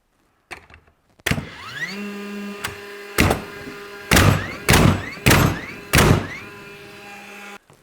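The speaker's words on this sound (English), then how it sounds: "which is multiple nails, so you don't got to pull the trigger every time" A DeWalt framing nailer with a flywheel drive fires several nails in bump mode: a whirring motor spin-up, then about five sharp, loud, evenly spaced bangs close by, each with a brief mechanical ring, followed by a steady whir.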